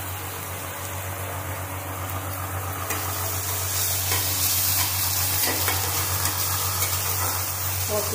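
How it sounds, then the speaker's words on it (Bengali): Spices for egg curry frying in oil with onion, a loud, continuous sizzle that brightens partway through, with stirring scrapes of a utensil against the pan and no talking. "মশলাটা, আমি ভালো রকম কষিয়ে দেবো।"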